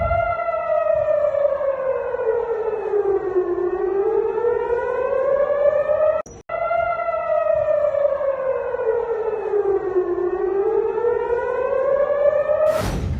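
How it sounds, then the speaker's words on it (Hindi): Civil defense air raid sirens wail at night in Tel Aviv, a loud rising and falling tone that sweeps up and down in slow cycles, broken by a brief dropout midway, with no voices. "मैं पहले आपको दिखाता हूँ जो सायरन बजना शुरू हुए हैं आधी रात को इजराइल की राजधानी तेल अवीव में"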